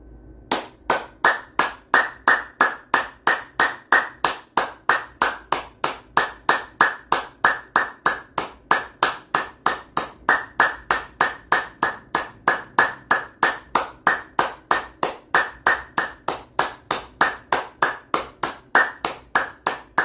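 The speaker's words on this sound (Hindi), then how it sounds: "लास्ट में बजाएंगे हम लोग ताली, ठीक है" Hand clapping closes an exercise session, about forty evenly spaced, crisp claps at a steady brisk rhythm, close and alone with no talking.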